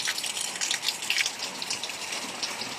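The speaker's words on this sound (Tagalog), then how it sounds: "Ang lakas talaga ng ulan." Heavy rain pours steadily onto surfaces amid flood water around a house, a dense continuous hiss with scattered sharper droplet spatters, moderately loud and without voices.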